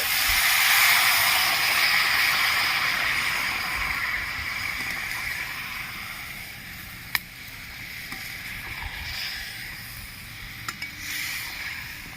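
Water poured into a hot pan while making an instant mango pickle hisses loudly at first, then fades to a softer steady simmer with a couple of sharp clicks, close and with no voices.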